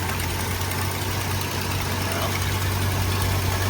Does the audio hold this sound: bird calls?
no